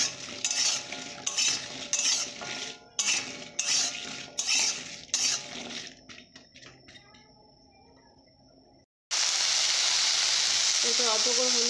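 Okra frying in a pan, with a spoon scraping and stirring in repeated bursts over a constant sizzle. The stirring stops, a brief pause follows, and then a loud, steady hiss of frying comes in.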